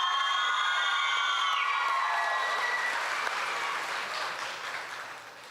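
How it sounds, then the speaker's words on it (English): An audience claps for pageant contestants at the Choctaw Nation Princess Pageant. The applause is a steady, dense clatter that fades slightly toward the end, with faint tonal sound underneath. "Let's give them another round of applause."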